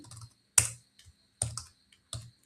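Keys clack on a computer keyboard while code is typed, a few sharp, separate taps with short pauses between them, close and clear with no talking.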